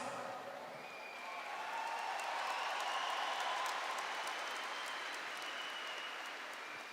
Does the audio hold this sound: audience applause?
yes